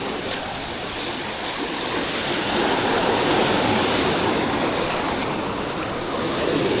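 Sea waves on a coastline during a fishing trip, a continuous loud wash of surf with a slight swell midway and no distinct breaks or talking.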